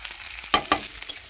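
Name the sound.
onion and green chili sizzling in hot oil in a kadai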